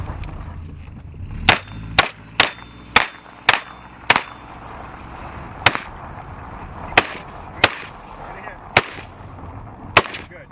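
Loud, sharp gunshots ring out during a live-fire security training drill: about a dozen single cracks, some fired in quick succession and others spaced more irregularly.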